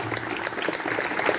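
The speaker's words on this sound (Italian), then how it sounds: "Grazie mille, un applauso anche a Alicia." Audience applause at a presentation in Casoli, a short burst of dense clapping at moderate level with voices faintly mixed in.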